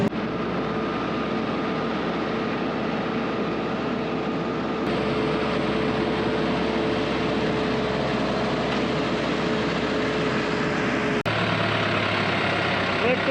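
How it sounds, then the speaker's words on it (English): A grain cart empties leftover barley into a truck at harvest while the heavy engines run: a loud, constant low diesel drone and rumble that stays steady throughout, with a couple of abrupt shifts in tone. "Dumping the last bit of barley that we left on the grain cart overnight under the truck."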